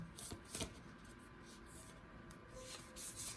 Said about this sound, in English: These are a little bit hard to shuffle.